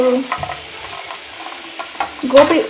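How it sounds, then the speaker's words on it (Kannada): Cauliflower pieces for dry gobi manchurian frying in a pan, a close, steady sizzle with stirring scrapes and a clatter near the end, no voices. "ಇನ್ನೊಂದು ಸ್ವಲ್ಪ ಅಲ್ಲಿ ಫ್ರೈ ಆಗ್ತಾಯಿದೆ"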